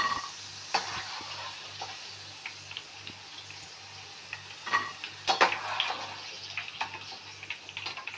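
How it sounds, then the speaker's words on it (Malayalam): Potato pieces for chilli potato sizzle in deep oil, a fairly quiet bubbling fry broken by scraping and clinking of a ladle lifting them out, with no talking. "അപ്പോൾ നമ്മൾ വെച്ച ഉരുളൻകിഴങ്ങ് നന്നായിട്ട് ഫ്രൈ ആയിട്ടുണ്ട്"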